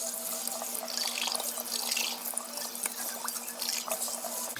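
Tap water running steadily into a sink while a Perky Pet hummingbird feeder is rinsed, a close, continuous splashing hiss with small drips and clinks.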